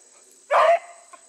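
Hunting dog pushing through thick cover while chasing rabbits outdoors gives a single short, loud bark, close by against a quiet background.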